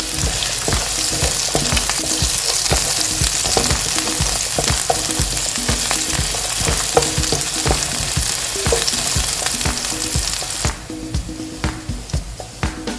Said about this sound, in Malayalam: എണ്ണ ചൂടായി വരുമ്പോഴത്തേക്ക് ഉള്ളിയും സേതനയും വെളുത്തുള്ളിയും അതിലേക്ക് ഇട്ട് കൊടുക്കുക